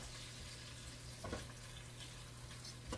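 Chicken thighs frying in a pan give off a steady, loud sizzle that runs continuously throughout, with a few brief stirring clatters on top.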